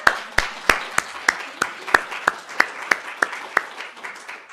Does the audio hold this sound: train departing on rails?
no